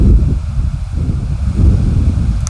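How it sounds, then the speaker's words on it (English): Low, buffeting rumble of wind hitting the microphone in uneven gusts, loud and close, with no talking. "I apologize for the wind."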